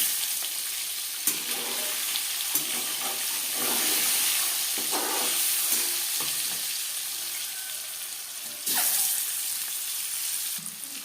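Eggs fry at medium flame in a pan for egg biryani, giving a steady, close sizzle with occasional brief crackles and stirring clatters throughout.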